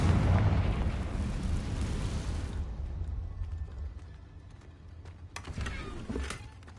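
A Confringo blasting spell goes off in Hogwarts Legacy as a heavy, rumbling explosion that booms loud at the start, then decays into a long low roar, followed by scattered crackling debris bursts.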